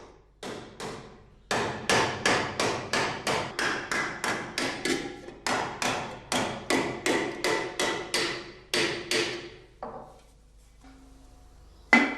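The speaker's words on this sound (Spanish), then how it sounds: "golpea con el martillo hasta darle la forma cilíndrica" A hammer shapes a handmade metal cowbell into a cylinder, striking in quick bright metallic blows, about two per second in bursts with short pauses, close and loud.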